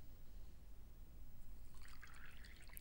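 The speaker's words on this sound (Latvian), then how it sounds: "Ūdens, kuru mēs pievienojam polimeram." Tap water is poured from a container into polymer snow powder, at first only a low background hum, then a faint trickling and splashing in the second half.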